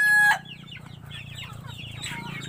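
A brooding native hen sitting on her eggs on a Philippine farm gives soft, low, repeated clucks, close by. A sharp rooster-like call cuts off in the opening moment.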